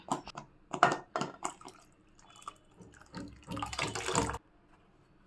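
Cooking water from boiled greens is poured into a Mandya-style greens sambar in a pot. Quiet splashy bursts come first, then a longer continuous pour is heard up close before it stops.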